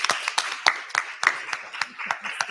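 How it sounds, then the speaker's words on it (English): Sparse, distinct handclaps from a small audience at a League of Women Voters candidate forum, about a dozen close, uneven claps in quick succession with no cheering. "Now it's appropriate to clap for all of the candidates."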